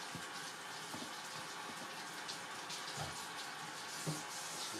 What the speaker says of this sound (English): Rinse off my little hands.